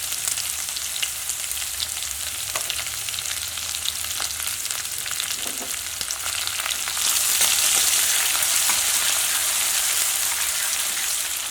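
Sliced onion and curry leaves fry in hot oil with dried red chilli, a steady loud close sizzle that thickens and brightens partway through, with no talking.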